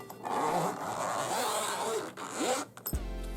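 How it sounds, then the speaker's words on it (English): A zipper on a thick long-handled brush case holding brushes and a palette is pulled open in one long close rasping run, ending in a brief clunk. "So you unzip it"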